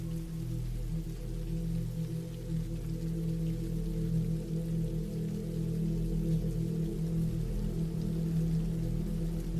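Steady rain falls in the woods at night, a constant close hiss over a low, droning rumble, with no voices.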